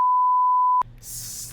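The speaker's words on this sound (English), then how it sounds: "I have to beep that out." A censor beep, a single steady electronic tone held for most of a second before cutting off abruptly, loud and close, followed by quiet room noise.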